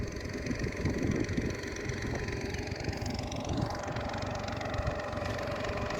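A tractor engine running steadily to drive a village field irrigation pump in place of solar panels, a continuous mid-pitched idling drone with a slight rising whine partway through, moderately close and unaccompanied by talk.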